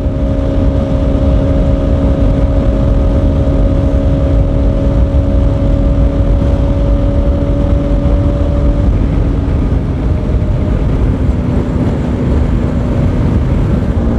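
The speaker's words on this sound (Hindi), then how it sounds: "सो गाइस अब खींच रहा हूँ मैं बाइक, अभी तक खींची नहीं थी" A motorbike accelerating hard on an open road in Jammu, a steady loud engine drone with rising pitch, heavy wind rush over the microphone and no talking.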